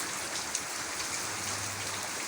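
Heavy rain falls in Chandra, Gazipur, on a day of nonstop rain. A continuous, even wash of rain noise with faint drop taps continues without a break, and no voices are present.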